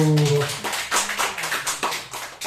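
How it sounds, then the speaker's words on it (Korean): A congregation in a Korean church breaks into applause right after a prayer, with a short burst of scattered clapping following a brief spoken call. "박수!"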